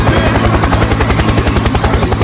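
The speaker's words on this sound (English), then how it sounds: "Helicopter! Helicopter!" A loud, close helicopter with fast, steady rotor thumping that continues throughout, no voices audible.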